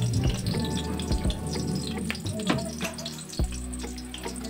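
Chopped onion (sibuyas bumbay) sizzles in hot oil in a pan while squid adobo is cooked, a steady dense frying hiss with scattered clatters and stirring knocks close by, no voices.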